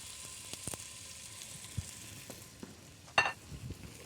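Turkey roulades brown in olive oil in a pan with a steady, quiet sizzle, a few soft clicks of pan handling, and one brief louder spatter toward the end.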